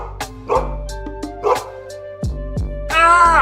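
Police dog Kraken barks in several sharp, loud bursts over a low hum, ending in a higher whining yelp.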